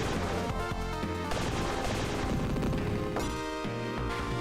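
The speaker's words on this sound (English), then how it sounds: "And to avoid gunshots." Gunfire rattles through a Shinobi action video game, dense and continuous over a busy bed of game music and effects, with no voices.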